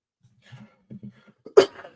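A few faint throaty sounds, then one sharp, close cough bursts out, trailing off into a breathy rasp.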